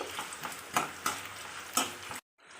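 A tempering of spices with dried red chili pieces fries in a pan for a raw mango dish, a soft steady sizzle broken by several close stirring scrapes, then cutting off abruptly near the end.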